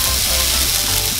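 Potatoes and ham fry in a pan with a loud, steady, close sizzle and crackle, constant throughout without any talk.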